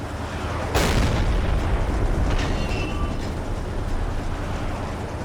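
Enemy ship gunfire in the Silent Hunter 3 naval game, a heavy shell impact boom rising out of a constant loud rumble, followed by a rolling low roar and faint distant cracks.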